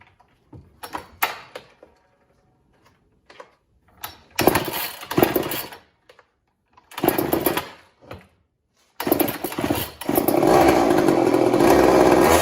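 A 1980s Mastercraft (Poulan) chainsaw sputtering through several short revving bursts with gaps of silence, then catching and running steadily at the end, loud and close.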